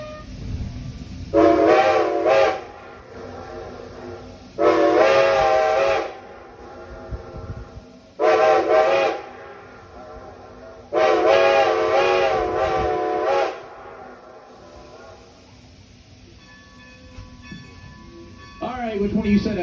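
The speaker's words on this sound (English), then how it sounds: "to blow our whistle, that ghost of old Lancaster, Oxford, and Southern number 6 will answer us back" A steam locomotive whistle on the Strasburg Railroad sounds in several loud, sustained blasts, each followed by a gap where a fainter answering whistle from another engine replies in the distance. A train rumbles beneath and a voice speaks briefly between whistles.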